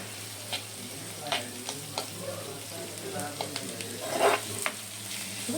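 Onion pieces frying with salt in a pan for a raw mango curry, a steady soft sizzle broken by occasional stirring scrapes and taps, close and fairly quiet.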